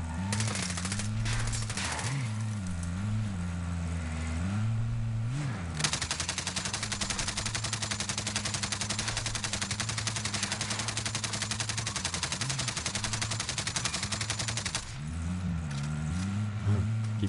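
Rapid automatic gunfire in a squad-based shooter video game, aimed at an enemy riding an ATV, sounding as sustained loud bursts over engine rumble and game noise, with a dense stretch of continuous fire in the middle.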